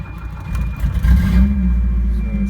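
A Volvo drift car with a misfire starts up and idles, a loud close rough engine rumble that swells after the catch and settles into an uneven, lumpy idle.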